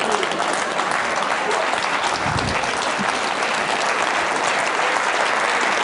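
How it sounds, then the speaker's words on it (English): Audience at a TED mentalism talk giving a sustained round of applause, steady and fairly loud throughout, with a brief murmur of voices partway through. "give her a round of applause."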